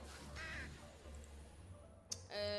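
A crow caws in a Dofus dungeon, one short rasping call early on, then a sharp click and a brighter sustained buzzing tone near the end, all over a low humming game background with no voices.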